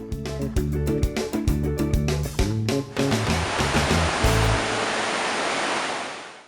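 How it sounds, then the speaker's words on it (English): Victoria Falls on the Zambezi River thundering, a broad, loud roar of falling water that swells up under loud music before slowly fading out. "Welcome to the Wondrous Victoria Falls, the smoke that thunders."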